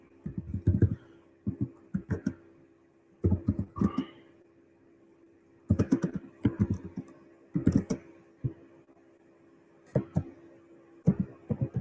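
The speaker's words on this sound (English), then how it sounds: "I'll type it in there" Keys clacking on a keyboard in short bursts separated by pauses, with clusters of quick taps coming and going in a quiet room.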